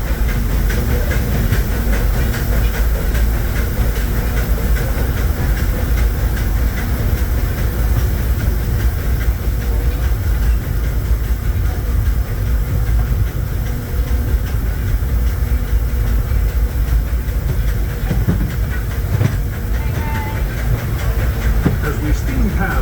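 A Disneyland Railroad steam train, Holiday 5 Blue, runs in the rain with a constant loud rumbling, hissing wash and faint rhythmic rail clatter, broadband and unbroken for over twenty seconds, with some voices underneath.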